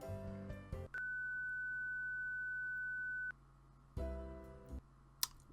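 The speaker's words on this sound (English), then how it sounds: "Why was there a weird beep then?" A steady electronic beep tone holds for about two and a half seconds in the video game Lobotomy Corporation, set against a low background hum with brief clicks before and after it.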